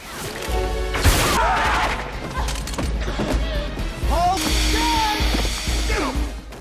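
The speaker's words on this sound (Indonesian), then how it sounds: "Archer kini bergabung dengan rekan-rekan agennya dalam baku tembak yang kacau melawan Caster dan juga Pollux" Chaotic gunfire from a film shootout between agents and criminals, loud bursts and crashes packed together across the whole stretch, mixed with shouting voices and dramatic noise.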